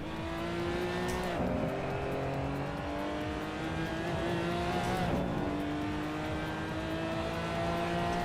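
A Porsche GT4 Clubsport race car in a racing sim, its engine droning at high revs. Shifts up and down come around the second and fifth seconds, tires give a brief squeal, and the steady, close engine note plays alone.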